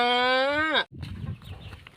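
A rooster's loud, drawn-out crow ends abruptly, followed by softer clucking and rustling nearby.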